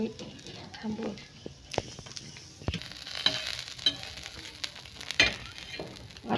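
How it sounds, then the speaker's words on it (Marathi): A ground paste of chillies, cloves, peppercorns, garlic, ginger, coriander and onion frying in a pan, producing a continuous close sizzle with occasional sharper pops and spoon knocks throughout. "मी हे वाटण भाजून घेते।"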